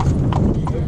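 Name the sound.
horse hooves clip-clopping pulling an Amish buggy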